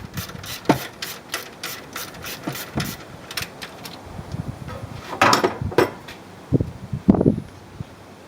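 Tools work the belt tensioner of a 1998 Jeep Wrangler TJ during a serpentine belt change, giving a run of close metallic ratchet clicks and knocks in uneven bursts. No one speaks.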